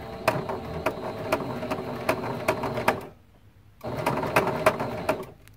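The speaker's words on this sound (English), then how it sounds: "we're going to do some back stitching to lock everything in place" A sewing machine back-stitches a quilt seam on a collage-style T-shirt quilt, running in a steady rapid needle rhythm for about three seconds, pausing briefly, then running again.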